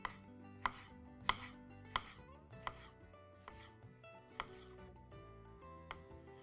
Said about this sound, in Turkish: Hemen domatesimizi de şöyle bir keselim.